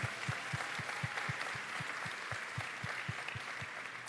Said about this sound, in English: So let's give her a round of applause for all she's doing.